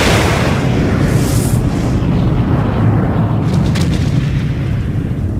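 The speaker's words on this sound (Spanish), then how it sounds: "Sin advertencia, una terrible explosión partió la nave a la mitad." The USS Maine explodes aboard ship, heard as a loud, sustained roaring rumble of blast and burning debris that fills the whole stretch with heavy low-end noise and no voices.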